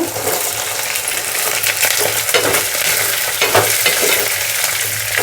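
Pieces of taro root fry loudly in hot oil, a dense, steady sizzling hiss throughout with occasional crackles and bubbling spurts, close up and with no one talking.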